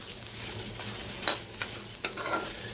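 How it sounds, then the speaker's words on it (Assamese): Large-variety til bhekuli leaves dry-roast in a wok without oil, giving a soft, faint crackle and rustle with a few sharper scraping strokes as they are stirred. "তেল দিয়া নাই, কেৰাহীত শুকানকৈ ভাজি আছোঁ"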